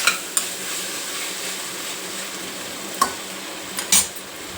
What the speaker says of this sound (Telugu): టమాటా మగ్గేదాకా మూత వేసుకొని మధ్య మధ్యలో కలుపుతూ టమాటా మగ్గనియ్యాలి